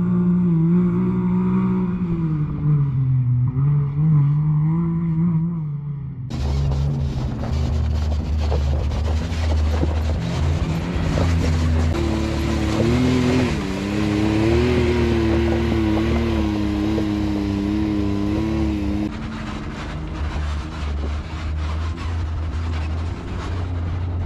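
An off-road truck crawls in low-range four-wheel drive, its engine droning steadily for a long stretch with a broad rumble that swells and settles, no talk over it.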